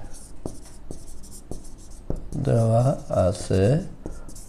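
Pen writing a trigonometry solution by hand on paper, a series of short scratchy strokes with a voice speaking over the later part.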